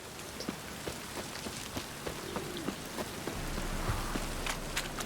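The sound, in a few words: rain conjured by witches in a video game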